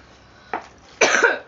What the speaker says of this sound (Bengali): আমার কাশি হচ্ছে